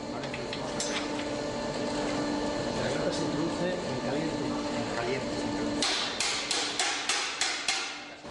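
A blacksmith hammers a Romanesque-style iron grille joined with collars instead of welds, first under steady talk, then about eight ringing, evenly spaced metal strikes alone near the end.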